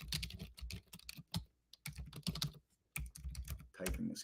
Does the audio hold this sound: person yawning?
no